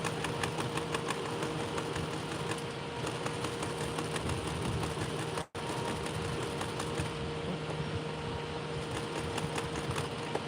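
A sewing machine stitches a denim waistband on upcycled jeans with a steady, close mechanical whir and hum that cuts out for a split second midway, then runs on unbroken.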